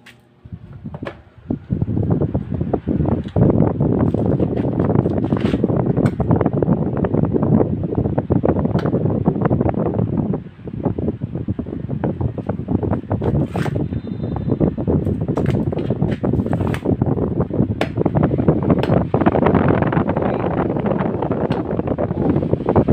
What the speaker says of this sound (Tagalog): At Crown Star pala ang brand nitong ating ginagawang electric fan. So testing tayo uli.